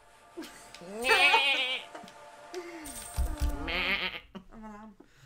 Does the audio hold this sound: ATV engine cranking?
no